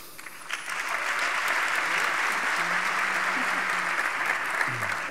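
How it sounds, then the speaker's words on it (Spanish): A forum audience bursts into steady, sustained applause, a close, even mass of clapping with a few faint murmurs and a brief low tone under it. "Yo creo que es un aplauso para APD por su gran trabajo."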